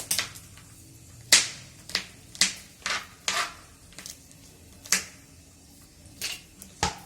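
Green chillies chopped with a knife on a board in a home kitchen, about ten sharp, uneven cuts at close range, alone with no talk over them.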